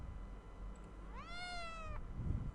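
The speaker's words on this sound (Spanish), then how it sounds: "Muy bien, y este es un gatito." A single drawn-out cat meow, a rising then falling whine lasting under a second, played from an animal sounds game over a faint background hiss, with no talking.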